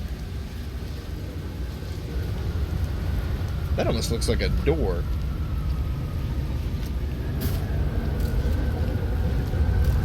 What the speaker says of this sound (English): I don't like how that tornado noise is getting loud.